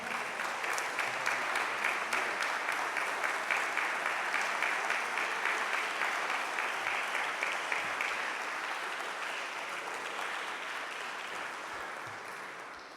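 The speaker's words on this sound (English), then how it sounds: "Please greet him with a round of applause." A mosque audience welcomes a speaker with a long round of applause. The clapping is dense and rhythmic at first, then thins and fades toward the end.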